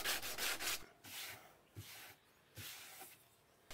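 Rough scratchy rubbing of sandpaper on a hand-sawn wooden edge, in several uneven strokes with short pauses between them, close and moderately loud.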